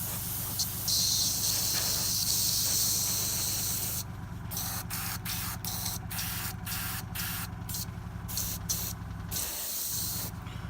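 Airbrush spraying paint onto a miniature bust, a close steady hiss that breaks into short repeated bursts as the trigger is pulsed, with the compressor hum running underneath and no talk.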